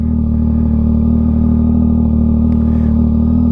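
Yamaha XSR900 motorcycle ridden at night, its engine holding a loud, steady, close-up hum with no talking.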